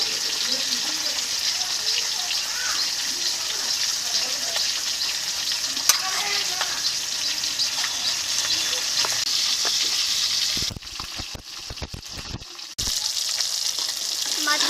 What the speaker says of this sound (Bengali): দেখুন কত সুন্দর করে ভেজে নিয়েছে এখন তুলে নিচ্ছি মাছ ভাজা